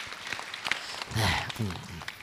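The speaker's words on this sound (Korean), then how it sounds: "박수로 맞으세요." Audience applause at a Buddhist question-and-answer lecture, scattered claps at moderate distance with a brief voice breaking in midway.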